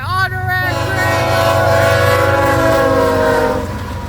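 A BNSF freight train hauling empty autorack cars passes close and loud, its horn sounding in a long sustained blast over the heavy rumble of the rolling train.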